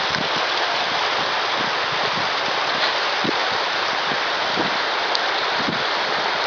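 Steady rain falls outdoors over rice fields in Indonesia, a dense continuous hiss with scattered heavier drops pattering close by, running unbroken with no voices.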